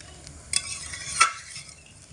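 A spoon stirs a curry of papaya, potato and mung dal with water added, making two brief, soft scraping swishes over a quiet background.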